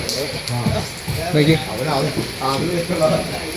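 Heavy rain hisses in a steady, close wash while a person talks over it throughout.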